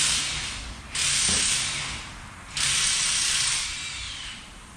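Two bursts of hissing liquid wax spray, each lasting over a second, with quieter rustling and faint handling noises between them.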